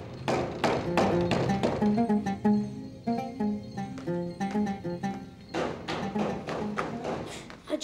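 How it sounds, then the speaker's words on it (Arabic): Knocking on a house door in an Arabic family drama, a quick run of light taps and thuds repeated in bursts over a tonal musical background, without any talk. "هذا الطارق على الباب؟ ألم يسمع عن اختراع اسمه الجرس؟"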